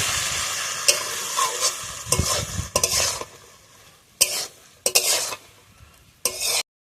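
Boiled peas and potatoes are stir-fried in a pan for ghugni, with goat fat. Sharp bursts of spatula scraping and clatter break in irregularly over a fading sizzle, with quiet gaps between strokes.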